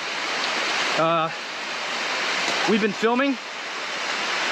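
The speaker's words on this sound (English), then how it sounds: "Right now it's pouring rain." Heavy, steady rain pouring down in the Darien Gap jungle, a dense continuous hiss that persists throughout while someone speaks briefly and another voice answers over it.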